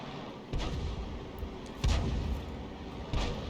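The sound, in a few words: tank cannon firing in a tank video game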